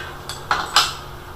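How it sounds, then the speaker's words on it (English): Old-school torque wrench tightening rear main seal bolts to 70 foot-pounds on a 5.0 engine, giving three sharp metallic clicks close by, spaced about a quarter second apart. "old school torque wrench, so we're going to get the back dogged over there and then bring it on to 70 foot-pounds."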